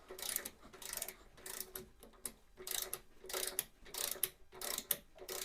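A torque wrench ratchets in repeated short clicking bursts while tightening bolts on a 1987 Honda GL1200 Goldwing motorcycle, close and fairly quiet with brief gaps between strokes.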